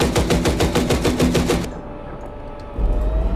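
Rapid machine gun bursts hammer an APC's engine block in the tank game Gunner Heat PC, a loud, evenly spaced rattle of about a dozen shots that cuts off, leaving a low rumble and a deeper thud near the end.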